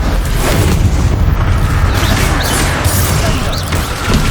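The Bombarda spell exploding in the Hogwarts Legacy video game: dense, loud booming blasts and crashing impacts that run together in a continuous barrage, with some voice mixed in.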